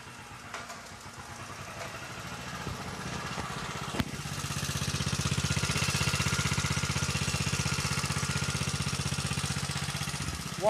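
A belt-started engine running on water gas settles into a steady, loud mechanical drone with rhythmic pulsing, building in intensity partway through and continuing alone without talk.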